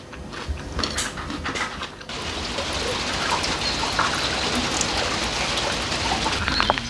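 Heavy rain pours steadily at a country cottage, a dense, continuous hiss of drops that thickens after a brief lighter opening and then holds, with no voices.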